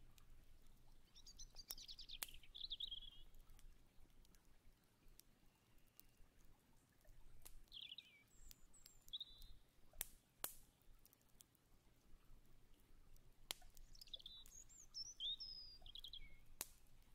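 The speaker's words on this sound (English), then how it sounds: "the bird sounds and stuff definitely make it more relaxing" Birds chirp and trill in a jungle temple setting, scattered short high calls coming and going over a quiet, steady background, soft and somewhat distant.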